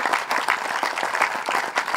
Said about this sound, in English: How about a round of applause for our presenting sponsors?